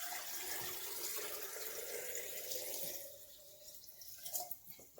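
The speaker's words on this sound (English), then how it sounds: "fill it up with the fruits and with our brine that's cooled down." Cooled brine is poured into a mason jar packed with green almonds and green plums, a soft continuous liquid pour that tapers off into a few gentle trickles and splashes, quiet and close.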